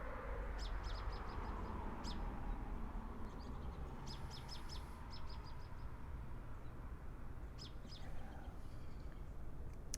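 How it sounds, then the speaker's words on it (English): Several birds, including cardinals, chirp and trill in short bursts over a constant low outdoor rumble, some calls nearer and brighter, others faint and distant. "But I'm sure you can hear the birds all around right now."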